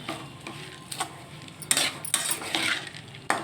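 A spoon scrapes and knocks against a cooking pot while salt, sugar and chilli powder are stirred in, giving a few clattering strokes over a faint background sizzle.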